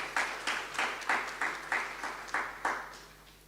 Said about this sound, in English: Give yourself a round of applause tonight again.